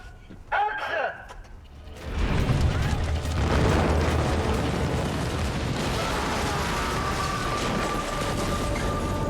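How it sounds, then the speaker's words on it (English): A propane mortar explosion set off for a TV stunt bursts suddenly after a brief voice, and the loud blast gives way to a long, heavy rumbling roar that slowly settles. "It was a great explosion."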